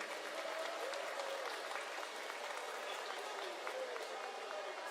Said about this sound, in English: Let's hear a round of applause for our rookie builder here.